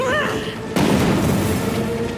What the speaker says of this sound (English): Let's throw a grenade.